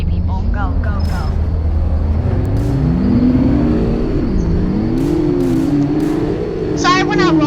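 A car in the Greenville roleplay game accelerates, its engine pitch sweeping up and down in a rising, wavering whine, heard close while people talk over it.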